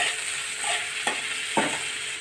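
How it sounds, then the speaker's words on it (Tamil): Tomatoes sauté in hot oil in a pan for a mango curry, giving a steady sizzle throughout, with two brief scraping stirs of a spoon near the end. No one speaks. "நம்ம இப்போ தக்காளி பழத்தை கொஞ்சம் வதக்கி விட்டுக்கலாம்."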